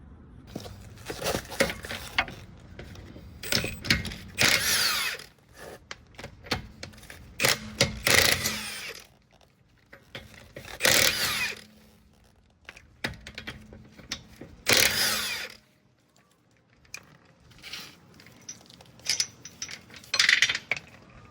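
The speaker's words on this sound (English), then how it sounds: "you're gonna start by taking off 5 21mm lug nuts" Impact wrench or power tool spinning off 21mm lug nuts from the wheel of a 2014 Nissan Altima 2.5S, heard as several loud rattling bursts separated by quieter gaps and clicks.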